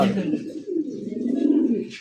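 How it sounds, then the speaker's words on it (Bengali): A male silver Lahore pigeon coos close by in a low, rolling, throaty call that swells and sustains for about two seconds. "নর কবুতর ডাকতেছে"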